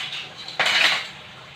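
Dishes being washed in a home kitchen, with a soft watery hiss and a single sharp clatter of cutlery and plates, and no talking.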